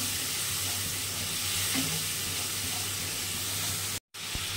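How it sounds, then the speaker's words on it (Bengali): Prawns frying lightly in a pan produce a dense, even sizzle close up, steady for several seconds before a brief drop to silence and a short return. "এবার চিংড়ি মাছটাও দিয়ে দিচ্ছি। বেশি ভাজবো না, হালকা ভাজা হবে।"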